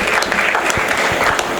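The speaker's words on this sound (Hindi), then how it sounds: "चलिए कमलेश यादव जी के लिए एक बार जोरदार ताली भाई" Audience clapping at a Hindi comedy and satire poetry gathering, a dense, steady burst of claps from a crowd, loud and close throughout the short stretch with no talking.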